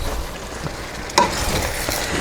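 A hot pan being deglazed while stirred for beef and broccoli, a steady broadband sizzle close up with a short scrape of the spoon near the middle, no talking.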